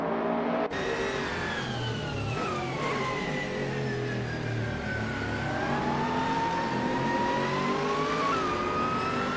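Race car engines in a video game, among them a Ferrari F430 GTC, drone loudly at the start, their pitches sliding up and down together in a steady, continuous roar.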